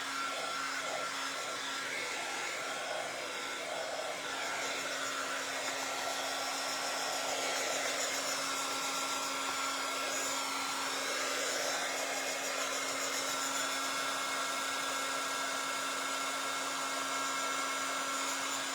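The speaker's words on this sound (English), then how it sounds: "I know that the drying part is loud and noisy and takes a minute" A hair dryer blows continuously to dry paint on boots, a loud, steady whine and rush of air that holds unbroken throughout.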